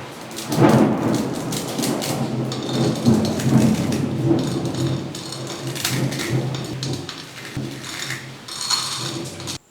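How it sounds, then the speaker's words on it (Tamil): Heavy rain pours steadily in Pondicherry while thunder rumbles and cracks, loud and close, with the downpour continuing throughout. "பாண்டிச்சேரியில் நல்ல மழை"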